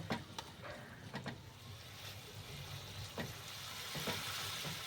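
Spices (chili powder, cumin and coriander powder) sizzle and fry in a pan for a cauliflower potato curry, a soft steady crackle punctuated by several sharp scraping stir strokes, no talk.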